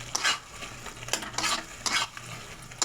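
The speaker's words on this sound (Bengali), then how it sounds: "এবার একটু চিনি দেবো, অল্প করে চিনি দেবো, আর ধনে পাতা দেবো, দিয়ে ভালো করে নেড়ে এটা নামিয়ে নেবো।" A pan of pumpkin and prawn curry is stirred with a utensil, giving close, scraping, clattering strokes in uneven bursts over a low hum, with a faint sizzle beneath and no talk.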